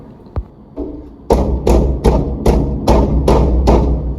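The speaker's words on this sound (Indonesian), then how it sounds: "terkejut mendengar suara ketukan pintu" Loud, hard knocking on a door at night: seven heavy, evenly spaced thuds follow a couple of softer bumps, close and alone with no voices.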